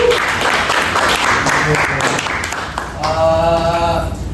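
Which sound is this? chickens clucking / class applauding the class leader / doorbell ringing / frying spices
class applauding the class leader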